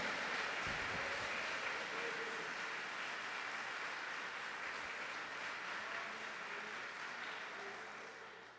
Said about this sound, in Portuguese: Você pode aplaudir o Senhor aí nessa tarde